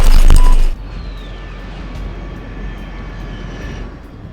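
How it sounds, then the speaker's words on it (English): A loud burst opens, then a fast aircraft engine roars overhead in Metal Gear Solid 3: Snake Eater, its whine gliding downward and fading into a steady distant drone. "Unidentified aircraft detected."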